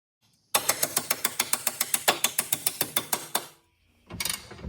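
Ratchet wrench tightening a rear suspension control arm bolt on a 2002-2007 Saturn Vue: a rapid, even run of about twenty close, crisp clicks, then a short pause and a brief final burst of ratcheting.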